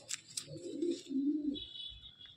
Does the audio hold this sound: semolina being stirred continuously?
no